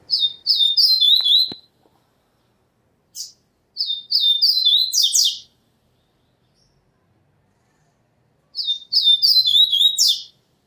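A caged songbird, a coleiro or papa-capim, sings loud, close, rapid twittering phrases in three bursts separated by short silences, with one brief chirp between the first two bursts and no talking.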